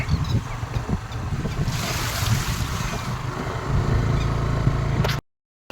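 Water runs from the Thebi dam at Amreli into a side canal, heard as a steady broadband outdoor rush with wind buffeting the microphone. The sound continues without talk and cuts off abruptly near the end.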